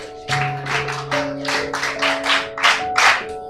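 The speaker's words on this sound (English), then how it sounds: "Clap for yourselves." Students in a school classroom clap for themselves, a short round of loose rhythmic hand claps close by, with a sustained tone ringing underneath.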